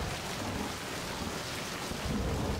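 Steady, dense rain pours over a Left 4 Dead 2 farm level, landing on a building roof with a dull, soft patter rather than a metallic ring. Low rumbling swells beneath the constant hiss.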